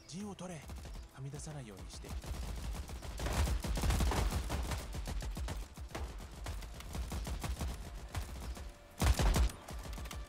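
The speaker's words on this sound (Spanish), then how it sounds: "Vamos a meter a este aquí en la ametralladora" Machine gun fire in the video game Ratten Reich, sustained rapid bursts building into a heavy barrage, with a louder volley near the end.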